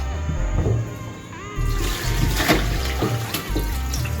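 Water runs steadily from a tap while chicken is washed with vinegar for Jamaican-style curry chicken, a continuous splashing flow with changes as hands move through it.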